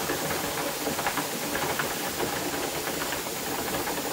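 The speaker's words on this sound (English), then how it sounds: "see a more steady stream coming out of there" Steam hissing steadily from the vent of a Presto pressure canner while canning pineapple, a constant broad close rush with slight pulsing rattle underneath and no talking.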